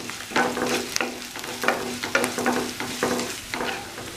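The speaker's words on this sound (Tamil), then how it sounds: "இப்போ நான் இதல வெத்தலை சேர்த்துக்கறேன் அது கூடவே கொஞ்சமா உப்பு சேர்த்துக்கறேன் சும்மா இத லைட்டா வதக்கி விடுங்க" Betel leaves and carrot with salt sautéing in a pan, a steady sizzle broken by repeated scraping stirs of a spatula at a roughly regular pace, close and fairly loud with no talk.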